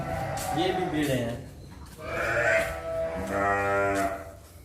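Sheep bleat repeatedly in a livestock pen, several wavering calls close to the microphone, with someone talking over and between them.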